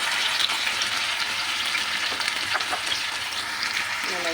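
Fish dropped into a hot pan sizzles and fries steadily for inadobong mamaw, a dense crackling hiss running unbroken from start to finish with faint stirring scrapes.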